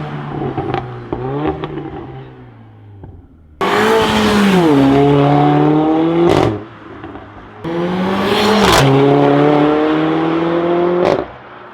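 A Mercedes-AMG CLA 45 with an iPE exhaust revs hard twice, each long roar climbing in pitch before cutting off with sharp crackling pops; a lighter rev precedes them.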